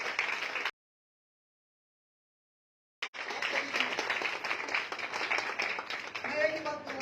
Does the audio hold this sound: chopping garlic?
no